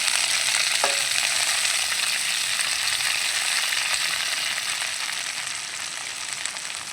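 Fresh coriander leaves frying in hot oil for a chutney give a loud, dense, continuous sizzle up close, with a single short clink near the start and no voices.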